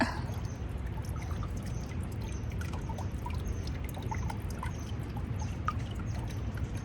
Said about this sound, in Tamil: நல்லா சூடாக தண்ணி வந்துட்டுருக்கு.